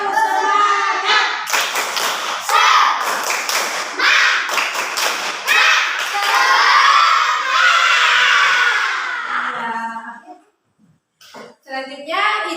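A class of children does a rhythmic group spirit clap (tepuk semangat) led by a teacher in an Indonesian classroom, with loud patterned claps and chanting voices for about ten seconds before a brief pause and a few more sounds.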